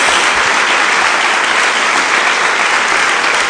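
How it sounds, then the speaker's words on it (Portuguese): Church congregation applauding in praise during a sermon, dense steady clapping from a large crowd, loud and continuous throughout without a break. "Dê uma salva de palmas a Jesus."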